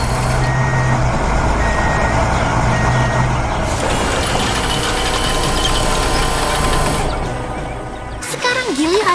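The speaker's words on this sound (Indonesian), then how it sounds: "Dan lihat, truk molen pun tiba tepat pada waktunya" An animated concrete mixer truck arrives, its engine rumbling loud and close while a reversing alarm beeps in a regular rhythm, followed by an air-brake hiss and a short rising tone near the end.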